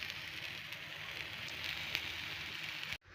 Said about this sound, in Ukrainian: На дворі відчувається дощик, іде така погода